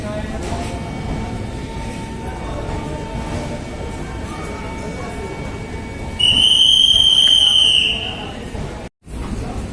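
The Mussoorie Express pulls out of a station with a steady rumble of moving carriages and a loud, sustained whistle blast partway through, while people talk over the railway noise.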